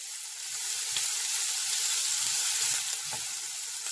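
Capsicum frying in a hot pan, a steady bright sizzle with soft scattered crackles and spatters, close and continuous throughout.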